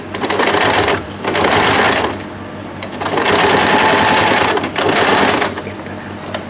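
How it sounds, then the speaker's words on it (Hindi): Sewing machine stitching the neck strip on a small doll dress, running in several loud bursts of fast stitching with brief slowdowns between them, close by. "सीधा करके भी हम एक सिलाई लगाएंगे ताकि ये हमारा जो गर्दन की पट्टी है ये बैठ जाए"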